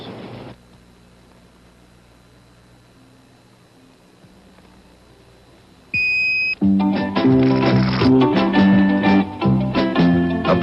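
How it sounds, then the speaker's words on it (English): A Polaroid countdown camera gives a single short electronic beep when the color picture finishes developing, sounding once after a quiet stretch, with loud music following right after. "This model turns its light off and beeps the instant your color picture is perfectly developed."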